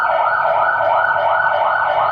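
A recorded ambulance siren plays loudly in a classroom, its steady wailing tone filling the whole moment without any talk.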